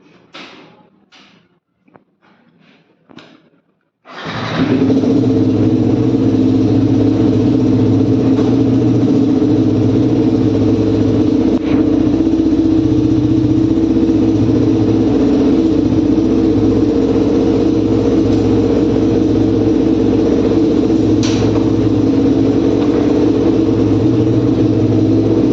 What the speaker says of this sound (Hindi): एक बार मैं आपको बाइक स्टार्ट करके दिखा देता हूँ